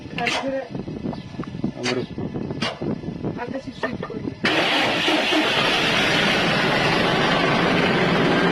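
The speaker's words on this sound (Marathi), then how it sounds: "आता कशी गाडी चालू होती तुम्ही बघा." Eicher BS6 truck, model 319, engine starting with a jump-start fix on a flat battery; voices talk over a few cranking bursts, then the engine catches and settles into a loud, steady idle.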